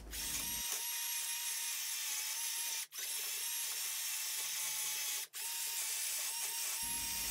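A cordless drill spins a wire brush bit to scrub surface rust and dirt off the metal case of an old Micafil Swiss transformer winding machine motor. The steady high whir and scratch breaks off briefly twice, with no talking.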